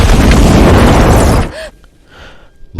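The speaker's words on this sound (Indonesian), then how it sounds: "mereka pun mulai meledakkan terowongan tersebut" Explosives blowing up a mountain tunnel in the film Troll: a loud, sustained blast roars for about a second and a half, then drops to a low rumble with faint debris and a final thump.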